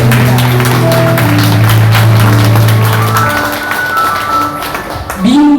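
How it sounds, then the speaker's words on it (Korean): Audience applause at a Korean meeting welcoming an introduced secretary-general, steady clapping and tapping through the whole stretch with a sustained tone and some voices underneath. "여러분 박수 부탁드립니다."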